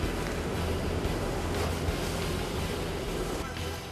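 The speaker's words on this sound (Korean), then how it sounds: "갑자기 강한 바람에 배를 집어삼킬 듯 성난 파도가 쉼없이 휘몰아친다" Strong wind and rough, pounding ocean waves surround a fishing boat out at sea, a dense, continuous roar of surf and wind buffeting the microphone, loud and steady throughout.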